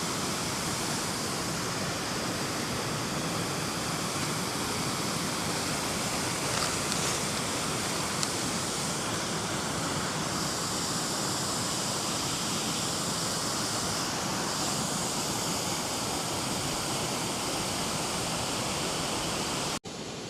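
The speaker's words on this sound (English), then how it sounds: "we're close to this waterfall, because it's quite loud" A loud waterfall in the Swedish wilderness roars as a steady, dense wash of rushing water, close by and unbroken, with no voices.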